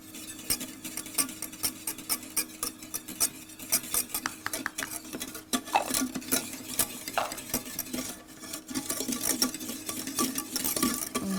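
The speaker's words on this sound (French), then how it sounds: "Et là, on va mélanger." A whisk stirs a coconut and starch mixture in a pot with fast, scraping metallic strokes. The strokes repeat steadily and close up, with a low background hum and no talking.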